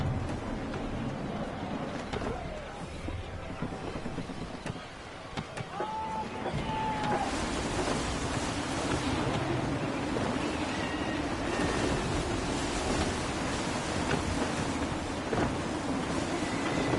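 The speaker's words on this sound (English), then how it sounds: "Gusty winds can be difficult to manage." Gusty wind blows across open sea in Assassin's Creed 3, a continuous rushing roar mixed with surf and waves that swells and dips, with faint tonal creaks over the noise.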